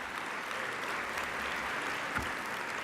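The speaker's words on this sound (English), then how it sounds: "So a big round of applause for her." A conference audience at a women's leadership event gives applause for Lisa Garrett, steady even clapping from a large crowd, moderately distant and continuous throughout.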